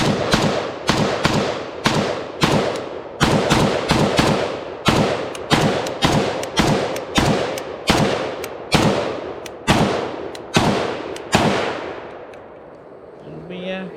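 A Zastava AK74-pattern rifle chambered in 5.56 fires a full magazine at the range. Loud, evenly spaced single shots crack out about two per second for roughly twelve seconds, then the firing stops.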